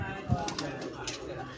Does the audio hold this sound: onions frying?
no